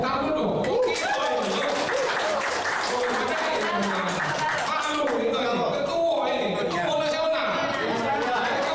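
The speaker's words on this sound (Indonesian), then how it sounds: "Tepuk tangan dong." Crowd applause and chatter at a campaign gathering for the Ganjar Mahfud ticket in Palembang, South Sumatra: dense, continuous clapping with a voice talking over it throughout.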